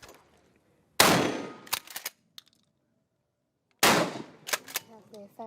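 Gunfire at an assault-weapons shooting range in Brazil, with two loud, close bursts of shots a few seconds apart, each followed by a few quick clicks and metallic clatter, then quiet.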